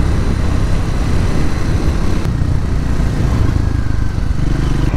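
A Triumph Scrambler 400 X motorcycle gives a steady, loud exhaust note, a constant low rumble heard close up and alone.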